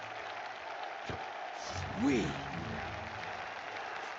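In the Fable Anniversary arena, a video-game crowd applauds as a soft, steady wash of distant clapping, with a player's brief voice heard over it.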